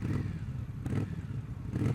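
Low, steady exhaust rumble from a 2020 Indian Scout Bobber Twenty with a wide-open exhaust, a throbbing mid-level engine pulse, heard on the move with slight swells in revs.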